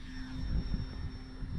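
FMS PA-18 Super Cub RC model plane, about 1300 mm span, in flight, with a steady, moderately faint electric motor whine and propeller buzz over low rumbling wind noise.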